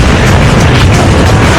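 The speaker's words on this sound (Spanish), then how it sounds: "La energía de la explosión cósmica llega al suelo, creando una nube de hongo de roca y tierra que es expelida hacia la atmósfera" A deep, loud, rumbling boom from a cosmic explosion striking the ground, throwing a mushroom cloud of rock and earth into the atmosphere; a dense, sustained low roar fills the short span with no pause.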